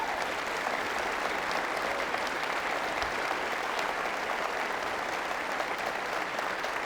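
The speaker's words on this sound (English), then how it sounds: "please give a round of applause to both the participants" A debate audience gives a steady, sustained round of applause for both participants, the dense clapping holding evenly throughout with no voices over it.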